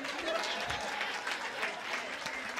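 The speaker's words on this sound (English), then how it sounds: "Y'all can clap for my kids" A comedy club audience applauds through a stand-up set, steady clapping spread across the room with a few voices mixed in, filling the whole moment at moderate volume.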